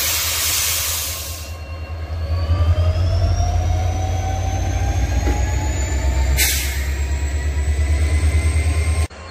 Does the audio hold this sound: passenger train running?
yes